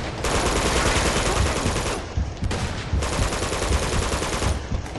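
Sustained automatic gunfire in the Uncharted 2 video game, loud and dense bursts filling most of the stretch with a brief lull in the middle before firing resumes.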